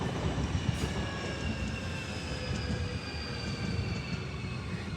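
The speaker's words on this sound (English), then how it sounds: "Here comes another train." A train passes by in Japan with a steady rumble of wheels on rails and thin metallic squeals from the wheels, sustained and moderately close.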